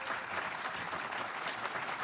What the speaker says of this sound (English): please, big round of applause for my lovely panelists.